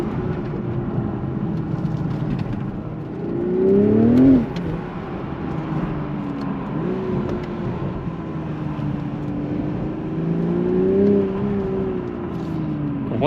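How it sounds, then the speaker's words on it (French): BMW Z4 M40i roadster with its B58 six-cylinder engine, a continuous close engine and exhaust drone with pitch sweeping up under acceleration twice, swelling louder each time, with faint background talk. "on a un retour à l'échappement et on entend quand même vachement le son du 6 cylindres"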